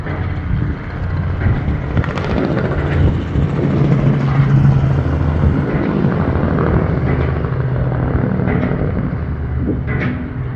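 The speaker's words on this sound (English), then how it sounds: "There's a helicopter." A helicopter's low rumble drones steadily throughout, with wind buffeting the microphone and faint distant noise; no one speaks.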